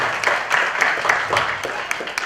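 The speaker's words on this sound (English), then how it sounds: "So let's give them a round of loud applause." An audience at a temple community event applauds donors with a short burst of steady, fairly close clapping that keeps an even level throughout.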